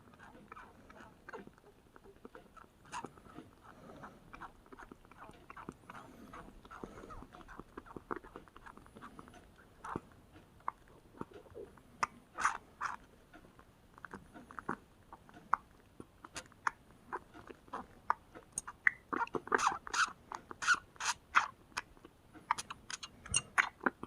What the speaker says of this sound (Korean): 냠냠거리고 잘 먹네